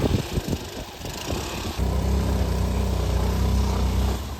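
A vehicle engine strains to pull free of ground near a lake, first sputtering unevenly, then settling into a loud, steady, close drone as it revs.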